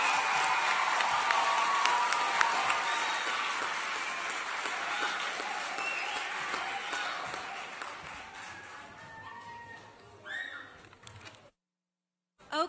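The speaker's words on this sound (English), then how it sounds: "I'd love one final round of applause for our finalists" A crowd at a teen press conference event applauds the finalists in sustained, dense clapping that slowly thins out and fades away, with a few scattered claps near the end.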